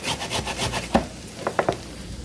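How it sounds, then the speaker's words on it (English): Ginger root scraped across a fine grater near a pan on the stove, a few short rasping strokes rising out of a soft rubbing background, close and fairly quiet with no talk. "when you grate the ginger, you have to scrape it from the inside"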